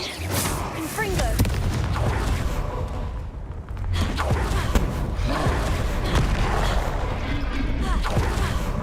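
Confringo blast spells fired repeatedly in Hogwarts Legacy combat, booming explosive hits and crashes layered over continuous battle noise, loud and dense with a brief lull midway, with shouted spell voices mixed in.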